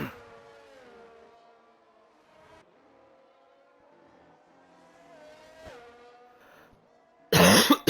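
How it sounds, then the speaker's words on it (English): A single abrupt cough bursts out loudly near the end, after a long stretch of race car engine drones and revving from a sim racing broadcast. "You hear me cough a little bit tonight."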